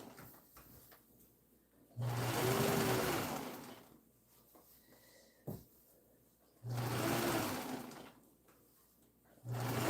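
A sewing machine stitches quilt blocks in two bursts of steady whirring, with quiet pauses and small handling clicks between them.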